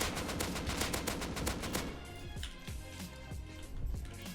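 Automatic gunfire at an oil rig in the survival game Rust, a dense rapid rattle of shots for nearly two seconds, then scattered single and short-burst reports at moderate distance.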